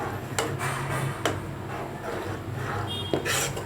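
Cooking pots and utensils handled in a home kitchen, with a few sharp metallic clinks and taps over a constant background hum.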